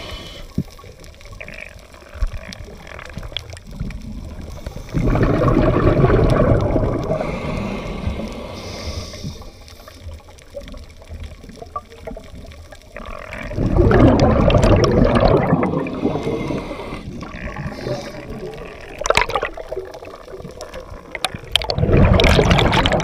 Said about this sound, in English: the water sounds lovely